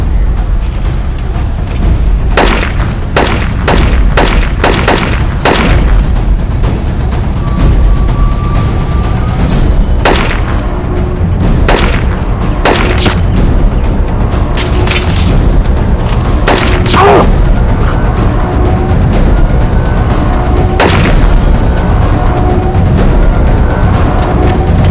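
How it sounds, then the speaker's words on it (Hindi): Bursts of gunfire crack out irregularly, sharp reports scattered over a constant loud rumble of battle, with no speech among them. "अरे मैं कवर फायर करता हूँ"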